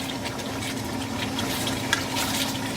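Water poured into a pot of Mughlai chicken korma with yogurt, a steady soft splashing fill over a low kitchen hum.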